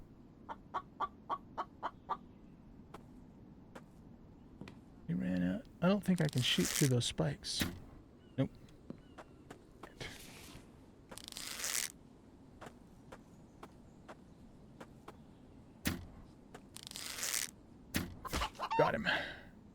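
Chicken clucks come from a video game: a quick series of short clucks at the start, then scattered bursts of gameplay noise while someone talks over them.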